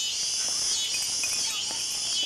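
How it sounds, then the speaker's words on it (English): A dense, steady shrill buzzing of cicadas fills the evening air, loud and continuous with slight swells in intensity. "Listen to those cicadas."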